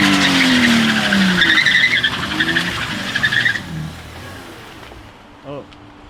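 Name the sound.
car arriving with tires skidding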